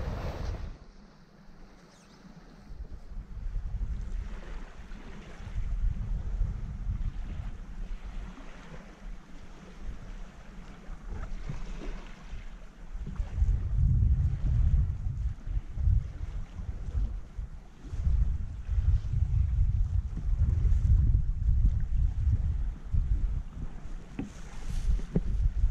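A Bavaria 41 sailboat under way in gusty wind and waves, with a continuous rush of wind and water wash that swells louder through the second half. No one speaks.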